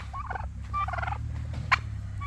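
Turkeys gobbling in short rattling bursts from a poultry yard, two close calls followed by a sharp squawk, over a low steady rumble of background noise.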